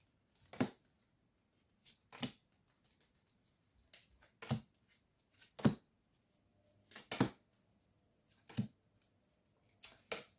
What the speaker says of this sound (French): Allez, on va prendre 9 cartes.